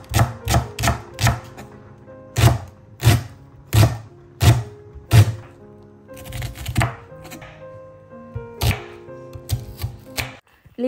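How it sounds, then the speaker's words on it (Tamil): Leeks, an onion and green chillies being chopped for Sri Lankan fish patties: a knife strikes a board in close, crisp thuds, first in quick runs, then in slower, evenly spaced chops with short pauses. "பச்சை கொச்சிக்காய் நான் 3ஐயுமே வெட்டி எடுத்துக்கொண்ட தேவையான மாதிரிக்கு"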